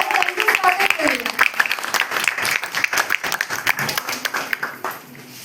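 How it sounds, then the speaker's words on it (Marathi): An audience at a Marathi language celebration claps to welcome two performers to the stage, a burst of dense applause over a voice at first, then thinning into scattered claps that fade away. "टाळ्यांचा त्यांचे स्वागत करूया"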